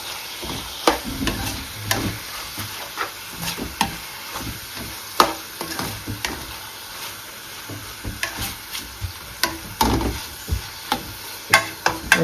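Mutton curry ingredients fry in a pan while a spoon stirs them, giving a steady low sizzle broken by frequent sharp scraping and knocking strokes at an irregular rhythm, close and moderately loud with no talk.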